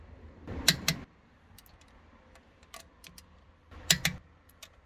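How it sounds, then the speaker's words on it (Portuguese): A torque wrench tightening wheel bolts during a seasonal tyre change gives two quick sharp clicks, then after a pause another double click, with faint clinks between and no voices. "você sabe que chegou no torque do torquímetro quando você ouve esses 2 cliques"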